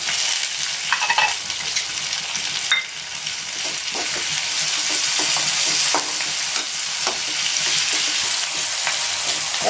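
Onion and tomato sizzle in a hot pan for a Tamil paruppu thakkali rice dish, with steady frying hiss and intermittent stirring scrapes, close and loud with no talk.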